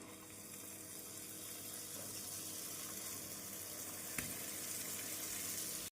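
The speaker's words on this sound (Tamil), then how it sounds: "எண்ணெயை மீடியம் ஃப்ளேமில் வைத்து ஜாங்கிரி சுற்றி விடலாம்." Jangiri batter sizzles steadily in hot oil over a medium flame, a dense, even crackling hiss that runs unbroken throughout with no voices.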